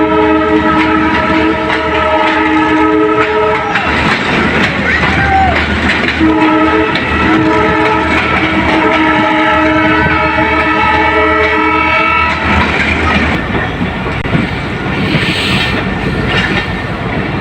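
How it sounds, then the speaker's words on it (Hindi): A train rolls slowly into Larkana station at about 10 km/h, its horn sounding in long sustained blasts over steady rumbling and clattering wheels, the horn falling away near the end as the rolling continues. "और ट्रेन बिल्कुल स्लो हो गई है, 10 किलोमीटर स्पीड से लाड़काना में इंटर कर रही है।"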